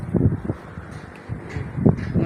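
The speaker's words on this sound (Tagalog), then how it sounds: "Medyo mahangin dito sa atin, oh." Gusty wind buffets an outdoor microphone in low, uneven rumbling bursts that rise and fall, alone with no talking.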